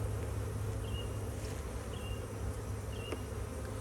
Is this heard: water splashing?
no